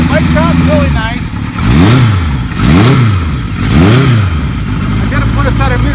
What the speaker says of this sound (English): The bike sounds really nice.